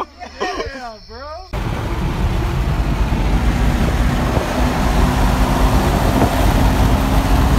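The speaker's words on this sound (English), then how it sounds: "We got a power stroke going by here on the side" A Power Stroke diesel truck passes along the roadside, a loud, steady broadband engine and road rumble filling most of the clip after a brief opening of other sound, with a voice speaking over it.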